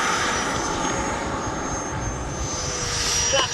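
Freewing F-22 90mm electric ducted-fan RC jet with full-span flaps down, taking off with a steady, loud rushing whine that holds throughout and swells slightly near the end.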